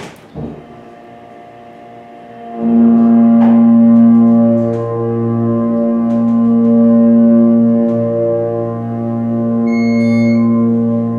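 A Haughton hydraulic elevator at a Macy's store starts up after a clunk, and its motor settles into a loud, steady harmonic roar and hum. The roar swells and eases slightly, with a few soft clicks and a brief chime near the end.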